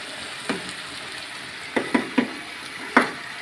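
Chicken sizzles and fries in a pan for curry, with a few sharp crackling bursts and stirring scrapes over a steady background hiss, close by and without talk.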